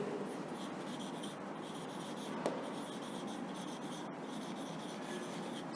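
Chalk or marker writes on a classroom board in a social studies lesson, giving a continuous close scratching and rubbing with small strokes and taps throughout.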